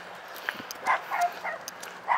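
A trained dog whines in short, soft high-pitched bursts outdoors beside its camp, several brief whimpers spaced across the moment with no talk over them.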